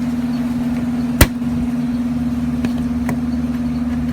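An air compressor that will not start makes one sharp, loud click over a steady electrical hum, followed by a couple of fainter ticks, with no talking.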